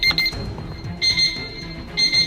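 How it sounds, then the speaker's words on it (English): An alarm clock rings loudly in repeated bursts of sharp electronic beeping, pausing briefly between each cluster, close and clear, with faint background movement. "Your alarm's going off."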